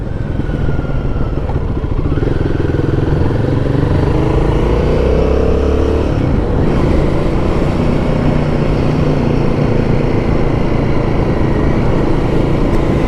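A Royal Enfield Guerrilla 450 motorcycle's engine runs loud and close, a deep, throbbing rumble that rises and falls as the throttle is worked, continuous throughout.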